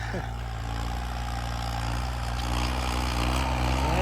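A modified 3630 tractor engine drones low and steady throughout at close range, idling with a constant rumble and no breaks.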